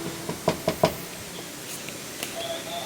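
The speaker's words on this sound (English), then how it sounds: "So we are about to knock on the door." Three quick knocks rap on a hotel room door close by, followed by a brief pause and a couple of faint taps amid quiet room tone.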